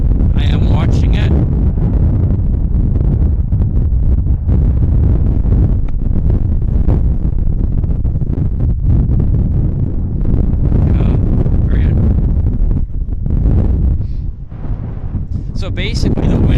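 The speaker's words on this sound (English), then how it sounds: "So basically the wind is blowing right down the center line of the runway, and it's strong." Strong wind buffets a microphone at Vancouver Airport, a loud continuous roar and rumble filling the whole stretch, with a person speaking underneath at times.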